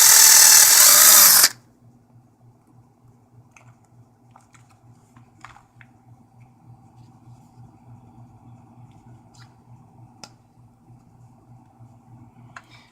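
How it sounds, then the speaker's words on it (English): A power drill bores through a cardboard template and cover plate while modding a Monoprice 4-channel XLR audio snake: one loud, close burst of drilling for about a second and a half, then only a quiet low hum. "drill through the holes we'd already drilled."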